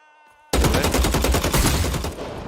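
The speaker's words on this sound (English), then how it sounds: "Oh my god, I got sniped from behind." A sudden loud shot in a shooter video game bursts in after a short quiet stretch, then a dense roaring rattle of fire and echo that holds strong and slowly tapers.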